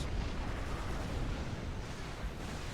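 Fat Boy artillery emplacements on giant treads keep up constant fire in a Supreme Commander 2v2 match, a dense continuous rumble of booming shots and explosions layered together, loud and unbroken for the whole stretch.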